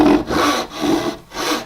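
A hand saw cuts a dovetail in wood with close, rhythmic rasping strokes, about four back-and-forth pulls separated by brief pauses, with no voices.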